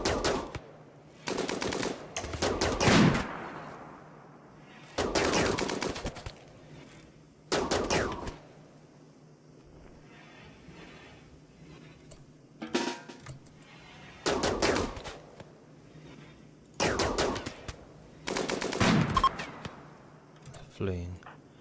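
Bursts of automatic weapon fire crackle in short, repeated volleys during a RimWorld colony battle, separated by quieter gaps, with someone talking between and over the shots.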